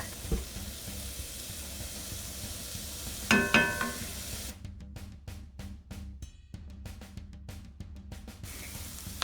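Onions and carrots cook in a pan with a soft, steady sizzle, joined by a brief clink and then a run of quick, faint crackles and pops.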